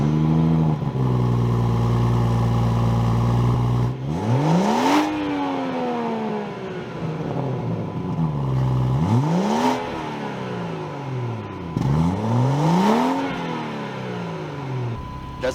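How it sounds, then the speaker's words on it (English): A 2018 BMW F36 440i Gran Coupe engine cranks and fires into a steady idle, then gets three loud, close revs. Each one rises sharply, holds briefly and falls back to idle, with no talking over it. "We'll give the car a start with maybe a little rev or two."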